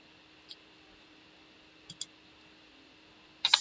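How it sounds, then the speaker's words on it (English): Sharp computer mouse clicks on a trading platform, a single click, then a quick close pair, then a louder cluster at the end, over a faint steady hum with no talking. "We're going to click back over to market."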